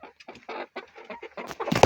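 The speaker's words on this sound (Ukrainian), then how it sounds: "Це мабуть, півень. Так. Це кури." Chickens cluck in a quick string of short, choppy calls, close by, ending in a louder burst of squawking.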